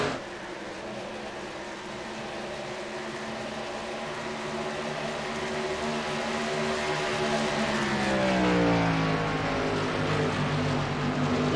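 A race truck engine screams at speed through turn three at Chicagoland Speedway in an iRacing truck series race, a sustained harmonic whine that rises in pitch and loudness toward the end, heard alone.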